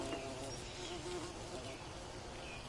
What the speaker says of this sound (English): Another way you can take care of these dumb bees